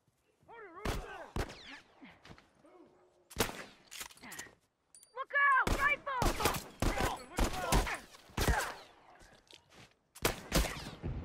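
Gunfire from The Last of Us rings out in sharp, loud broadband cracks, single shots and short clusters spread through the clip, with footsteps and bits of speech mixed between them.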